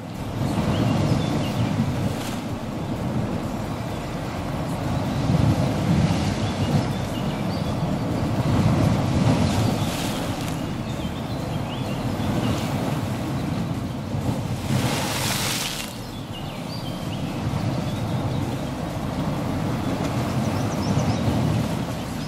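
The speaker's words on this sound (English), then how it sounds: "I have a video of ocean waves in media." Ocean waves wash in a steady broadband roar of surf with gentle swells in intensity, continuous throughout with no voices.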